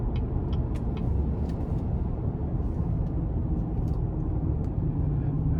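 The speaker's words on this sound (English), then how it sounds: "So starting the test drive in this 3500 HD dually, it's certainly a big boy" A 2016 GMC Sierra 3500HD Denali dually pickup with a 6.6-litre turbodiesel V8 cruises with a steady low engine drone and road rumble heard from inside the cab, with no talking.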